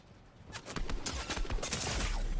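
Rapid bursts of gunfire in a shooter video game, a cluster of sharp cracks fired in quick succession over a couple of seconds amid a noisy, busy backdrop with no talking.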